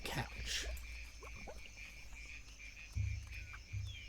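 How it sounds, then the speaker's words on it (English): A frog croaks in a sugar glider survival video game, giving low, loud croaks near the end against a faint ambient background. A player talks at times. "It's a frog."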